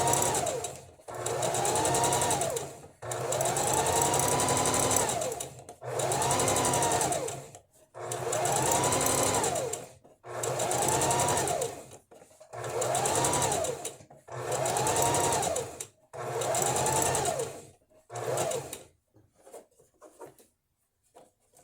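Sewing machine stitching, with needle down and thread held for a back stitch, running in about eight steady bursts of a couple of seconds each with short pauses between, then falling quiet at the end.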